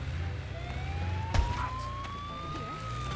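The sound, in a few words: ambulance siren in video game Goat Simulator 3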